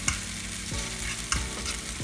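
Onions fry in a pan as the base for a prawn curry, a steady close sizzle with scraping stirs of a utensil every so often, and no one speaking.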